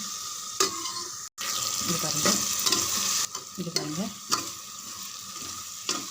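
Moong dal and onions being stirred in a frying pan give a steady sizzle with scraping spoon strokes, moderately loud and close, with a brief spoken remark over the cooking and one abrupt break partway through.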